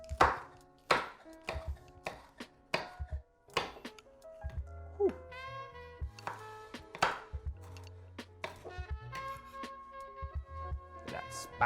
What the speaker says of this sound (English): So we're just gonna chop up the chilies.